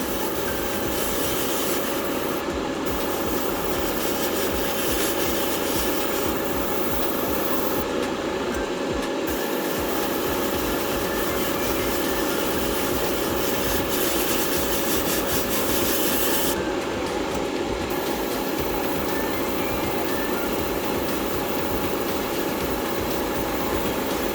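Weathering is rubbed onto a 1/144 scale Bandai Gundam RX-78-2 model kit in a continuous close, scratchy rubbing, steady back-and-forth strokes filling the whole stretch with no voices.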